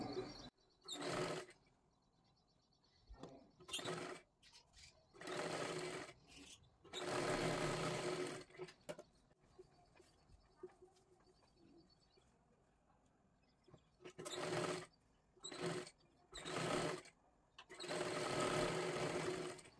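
Sewing machine stitching cross strips onto a size-40 katori blouse, running in several loud bursts of rapid needle chatter separated by pauses, with faint bird cooing in the background.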